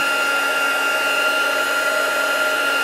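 Embossing heat gun blowing over vellum, a steady close whirring hiss of fan and hot air holding an even level throughout with no pauses.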